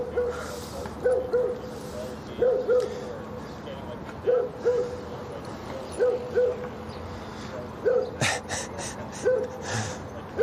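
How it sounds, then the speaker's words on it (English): A basset hound barks repeatedly in a city park, short sharp yelps recurring every second or so at moderate distance, over steady outdoor ambience with other sounds in the background. "That's a basset hound that was making all that noise."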